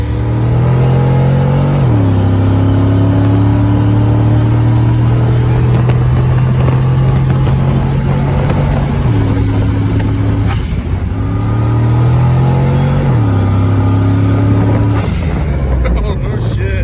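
A 1963 Buick Riviera with a 350 V8 rumbles loudly nearby while being driven, its deep engine note stepping up and down through several gear changes and revs, with people talking over it.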